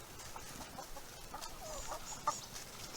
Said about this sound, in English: Now the baby chicks that we got started in March of this year